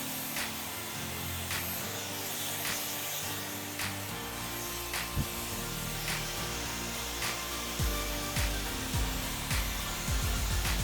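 A hair dryer blows steadily and loudly close by while a man's medium-length center-parted hair is dried in a salon, with faint brushing and rubbing sounds mixed in.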